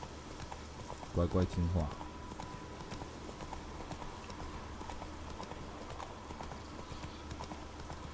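A horse's hooves clip-clop steadily in The Witcher 3 video game, with a brief louder burst of sound near the start, while a person talks over the gameplay.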